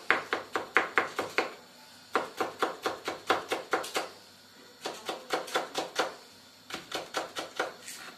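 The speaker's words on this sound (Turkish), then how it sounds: "biberimi doğruyorum." A knife chops peppers on a cutting board in a home kitchen, with rapid rhythmic bursts of crisp taps in several runs separated by short pauses.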